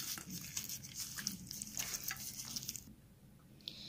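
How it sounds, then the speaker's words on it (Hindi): A spoon works a spice marinade and paste into mutton in a bowl, making wet, squelching, irregular scrapes and pats close up. They fade toward a quieter stretch before one last small clink. "इसको मिक्स करेंगे,"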